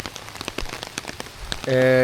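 Heavy rain falls in a Kerala village, with dense patter and separate drops hitting close by. A person talks over it, and a steady tone rises at the end.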